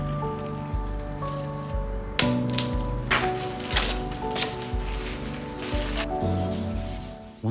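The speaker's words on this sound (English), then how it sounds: "To keep the stain from soaking in too much to this MDF, I'll apply a few coats of shellac first," A cloth rubs shellac across an MDF desk top in steady, close back-and-forth strokes, with scattered light taps between them.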